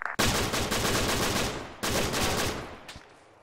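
Heavy gunfire in a military video game, a dense sustained burst of automatic fire lasting well over a second, a brief break, then another long loud burst that trails off into a few scattered shots, with no talk.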